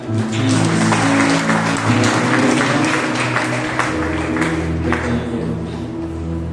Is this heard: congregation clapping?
yes